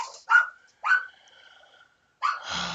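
A small dog barks and yips a few times nearby with high, whistly tones, short bursts separated by pauses and a fainter tail at the end.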